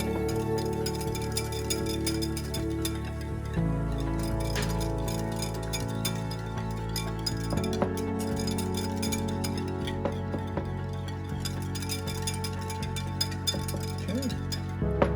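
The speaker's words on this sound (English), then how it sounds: "So now we just want to whisk this all together until it's nice and creamy" Alabama white sauce being whisked in a bowl makes repeated light clinks and scraping against the bowl, while a steady low hum and a person's speech carry on over it.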